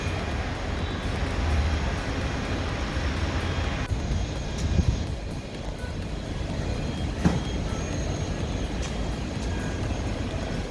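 Aircraft engines rumble in a steady low drone at Chennai International Airport as planes stand one by one beside the runway, with occasional clanks and thumps nearby.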